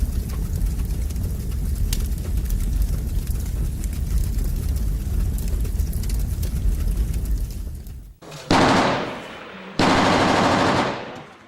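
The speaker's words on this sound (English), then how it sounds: "Macedonian police pinned down by bullets from above." Sustained gunfire from rebels on a mountainside in Macedonia, fired down on pinned-down police, crackles as a dense, continuous rattle for about eight seconds, then breaks into two louder, sharper bursts close by.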